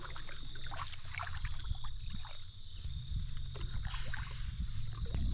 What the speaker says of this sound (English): it's only cut by the sound of a canoe stroke